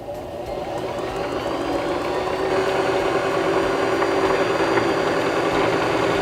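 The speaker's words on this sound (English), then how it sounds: "now we can push down on our foot pedal again and wind the rest of our bobbin." A Singer Start 1304 sewing machine winds a bobbin under foot-pedal control, a steady motor hum and whir that ramps up slightly and runs continuously.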